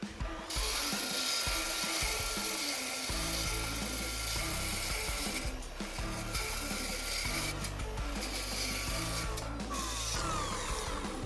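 A spur tool scraping a clogged buffing pad on a buffer, used while buffing sun-faded equipment: a steady, loud grinding rasp that runs continuously with brief dips, close up and without talk.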